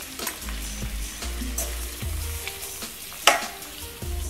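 Carrots and green onions sautéed in a pan, a continuous loud sizzle broken by rhythmic scrapes and bumps of the utensil against the pan, with one sharp clack near the end.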